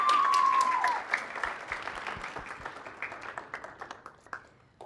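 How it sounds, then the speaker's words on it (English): Applause at a guide dog graduation ceremony honouring puppy raisers, a loud burst of clapping with a whistle at the start that thins into scattered, dwindling claps. "So round of applause for our puppy raisers."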